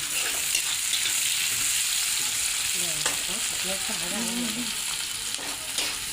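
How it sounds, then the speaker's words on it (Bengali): Onions frying in a pan, a steady broad sizzle running throughout with a few scraping stirs and faint clinks partway through, fairly close. "পেঁয়াজ দিয়ে দিলাম পেঁয়াজটা একটু ভাজা ভাজা হোক"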